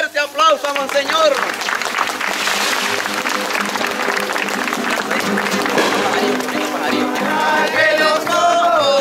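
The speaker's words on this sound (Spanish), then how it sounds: "Regalémosle un fuerte aplauso a Monseñor." Crowd in a Catholic chapel gives the Monsignor a loud, sustained round of applause, steady clapping throughout with cheering voices mixed in.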